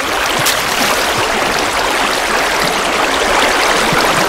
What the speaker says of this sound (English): Oh my god, there's so much water